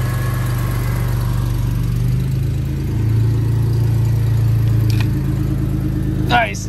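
A car that had sat unused for a long time idles after being jump-started with an Autowit super capacitor, its engine a steady, close, low hum throughout, with a brief clatter just before the end.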